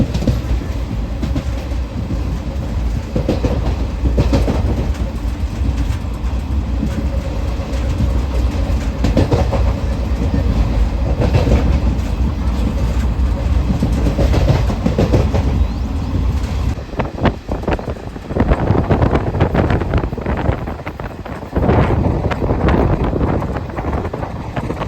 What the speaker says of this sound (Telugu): ట్రైన్ చూసుకుంటే స్లోగానే వెళ్తుందండి. సూపర్ ఫాస్ట్ ఎక్స్ప్రెస్ ఇది